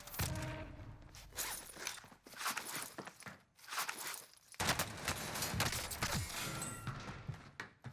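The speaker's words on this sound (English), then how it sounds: "Did y'all hear his footsteps?" Enemy player's footsteps in Call of Duty: Warzone, heard as quick, uneven steps mixed with bursts of gunfire and clattering game noise.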